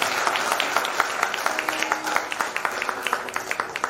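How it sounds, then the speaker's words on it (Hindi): A church congregation at a Christmas service in Panvel applauds: steady, fairly loud clapping from many hands, with no talk over it. "तो ताली बजा लो खुद के लिए।"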